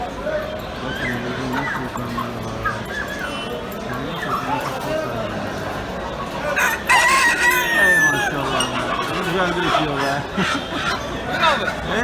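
A rooster crows loudly partway through, amid a busy outdoor bird market in Bursa with people talking and other birds and a dog in the background.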